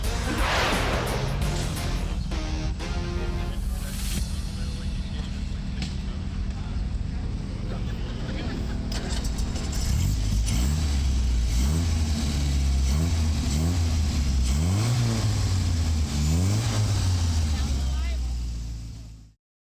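A classic Triumph car engine turns over and settles into a rough idle, then revs up and down repeatedly in loud, rising and falling bursts, close by.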